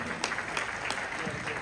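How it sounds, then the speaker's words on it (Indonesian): A crowd gives steady, moderately distant applause for Datuk Sri Anwar Ibrahim at a gathering. A high electronic whine sits over the clapping. "Tepuk tangan untuk Datuk Sri"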